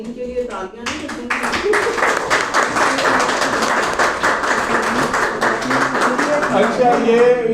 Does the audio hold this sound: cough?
no